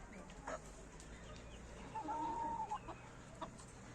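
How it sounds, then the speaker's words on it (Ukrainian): Crested hens cluck softly nearby on a farmyard over a low outdoor background, with a few short calls and a brief higher squawk in the middle. "такі наші всякі різні тут курочки-чубатурочки"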